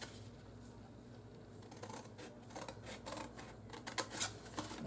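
Scissors snip along score lines in paper for a homemade gift box, a run of short close crisp cuts growing louder and busier toward the end, with no talking.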